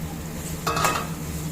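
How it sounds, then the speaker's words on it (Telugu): Ridge gourd pieces dropped into a hot frying pan give a short, close burst of sizzle and stirring clatter over a faint steady background hum. "ఇప్పుడు మనము బీరకాయ ముక్కలు వేసి ఫ్రై చేద్దాము"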